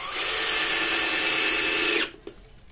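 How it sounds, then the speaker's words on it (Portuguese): A power drill drives a screw into a homemade wooden workbench for drilling cabinet doors, a loud close steady whine for about two seconds that stops abruptly, followed by a small click. "Vamos parafusar ela aqui também."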